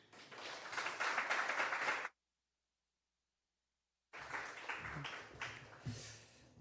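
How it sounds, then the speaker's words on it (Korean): A church congregation claps to welcome the pastor at a Sunday service, in two bursts of broad, steady applause split by about two seconds of silence. "이 시간 나오실 때 하나님의 말씀을 대언하실 목사님을 감사의 박수로 맞이하겠습니다"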